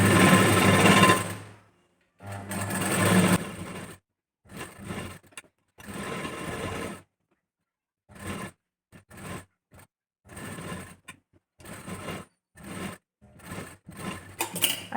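A sewing machine runs in repeated bursts while stitching a blouse sleeve onto the shoulder joint, each run a loud whirring rattle separated by short silent pauses.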